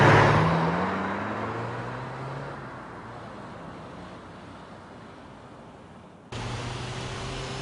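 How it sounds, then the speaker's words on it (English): An anime car driven fast, a loud whooshing engine roar that fades steadily over several seconds, then cuts abruptly to a renewed sustained rushing drone near the end, with no voices. "You're driving like a maniac."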